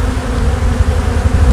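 Honeybees swarm around an opened hive as the keeper handles the frames, a dense, steady low buzzing that fills the whole moment with small fluctuations in loudness and no voices.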